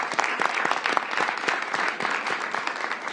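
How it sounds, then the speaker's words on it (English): Steady applause fills a room at a mayoral event in DC, even and moderately loud throughout with individual claps popping through the wash. "Let's give Thenie Freeman a round of applause."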